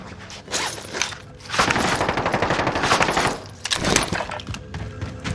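Rapid automatic gunfire bursts from Call of Duty: Warzone, likely an M1928 submachine gun, rattle loudly in dense volleys with brief pauses between them.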